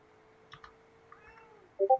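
A cat gives two short, quiet meows at the very end, after faint clicks and a soft low hum.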